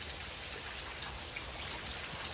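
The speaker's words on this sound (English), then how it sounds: "As you can see, it's still raining here in Texas." Steady rain falls in Texas, a dense, continuous hiss of drops with no voices and no pauses.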